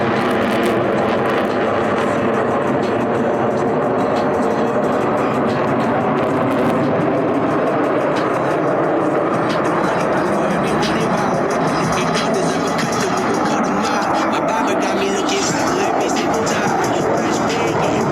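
A Blue Angels F-18 jet roars past at a military airshow, a loud sustained rumbling whoosh that swells and shifts, heard over crowd noise and a voice on the public address.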